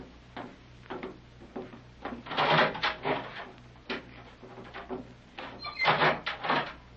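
A steel door opens in a radio drama with a string of clanks, scrapes and knocks. Bursts of clatter come and go over a low steady hum, close and fairly loud, with no voices.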